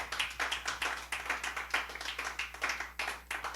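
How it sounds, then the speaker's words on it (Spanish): A church congregation claps in a brisk, rhythmic burst, many hands striking in a steady beat, fairly near but moderately quiet, with no talk over it. "Dele otro aplauso a Cristo."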